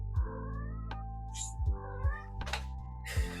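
A cat meows several times in quick succession, close and clear, with short rising cries spaced unevenly over a background hum.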